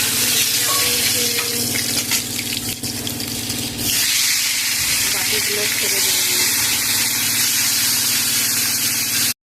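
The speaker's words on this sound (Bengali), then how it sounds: "মাছগুলো আমার ভাজা হয়ে গেছে লাল লাল করে, এই যে এখন তুলে নেব" Fish frying in hot oil in a home kitchen, a loud, steady sizzle and hiss that fills the whole stretch, close to the pan, with a brief burst of sharper crackling partway through.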